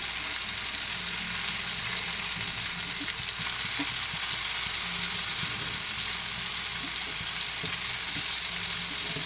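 Fish frying on a tawa gives a steady, even sizzle that holds at the same level from start to finish, close by with no talking.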